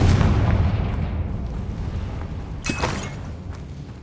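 A Confringo blasting spell explodes in the Hogwarts Legacy video game, a booming burst that fades into a rumbling tail, followed by a brief sharp crack of spell effects near the end.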